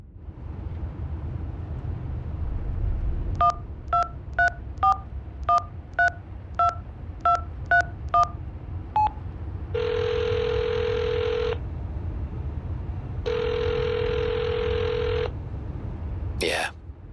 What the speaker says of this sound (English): Dial the number.